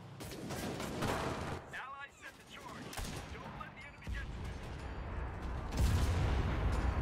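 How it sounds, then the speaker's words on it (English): Heavy gunfire and booming blasts in the Enlisted war game, including tank shots, fill the scene with loud irregular bursts and a deep thump near the end, while a player talks over it. "the tank needs to stop firing at me"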